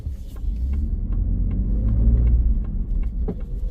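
A Ford F150 pickup truck with 4x4 engaged climbs a steep icy hill, its engine a steady low rumble heard from inside the cab, with scattered faint knocks and crunches from the road.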